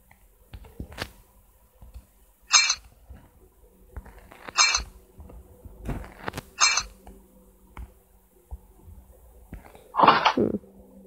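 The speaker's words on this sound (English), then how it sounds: "Clink, the sound of an opening door came from somewhere." Sharp metallic clinks ring out several times in a video game, the sound of a door opening somewhere, spaced irregularly over quiet ambience, with one longer, louder clank near the end.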